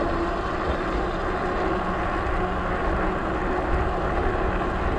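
Twin electric motors of a LAFLY T1000 pro fatbike hum steadily in third gear, a continuous broadband whine and rush with wind-like noise, loud and even across the whole stretch with no talk.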